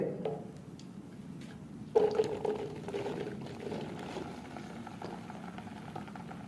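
Cut okra (bhindi) dropped into hot oil in a cooking pan, bringing a sudden rise into a steady, dense sizzle that continues close and fairly loud with no talk.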